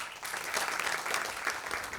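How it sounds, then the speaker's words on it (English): A reunion audience breaks into a steady round of applause, dense and continuous clapping from many hands lasting about two seconds with no talk over it. "Round of applause, please."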